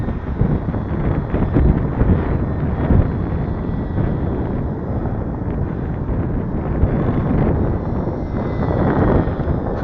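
Strong wind buffets the microphone at an outdoor RC plane flight, a loud, continuous rumbling roar that swells and eases for the whole stretch with no voices.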